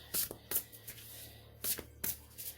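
An oracle card deck, Shaman's Dream, is shuffled by hand in a few short, crisp riffling bursts separated by brief pauses, close and moderately loud with no talk.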